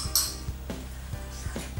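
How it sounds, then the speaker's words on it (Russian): A spoon clinks against a cup while stirring cinnamon into melted soap base, several light metallic taps at an irregular rhythm, close and fairly loud, with no voices. "Размешиваем хорошенько."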